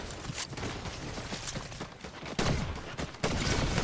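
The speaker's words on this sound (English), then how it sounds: "it's just shotguns everywhere" Rapid shotgun blasts in a Fortnite Reload Zero Build match, dense and loud, with overlapping bursts and sharper louder shots near the end.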